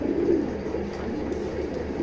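Pigeons coo in a loft, low and throaty, in a steady murmur that carries through the whole stretch with no voices over it.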